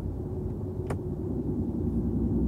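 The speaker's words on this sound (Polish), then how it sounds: "po otwarciu tych klap, no to ten dźwięk to jest zupełnie coś innego. Ja może sobie mogę to otworzyć teraz." A 2012 Jaguar XF 5.0 V8 exhaust with its valves opened, giving a steady, deep idling rumble at close range with one brief click and no talk.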